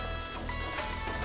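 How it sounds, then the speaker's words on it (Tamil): Thick sweet Ukkarai mixture being stirred in a pan, giving a steady close sizzling hiss with soft scraping throughout, no voices. "நல்ல சுருளை கிளறிட்டு இருக்கோம்"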